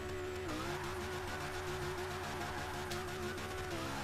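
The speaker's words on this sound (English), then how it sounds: "Second gear wheel spin." A Toyota Supra spinning its wheels at full throttle in second gear in Forza Motorsport 6, a steady sustained high engine drone with a small dip in pitch, loud and continuous.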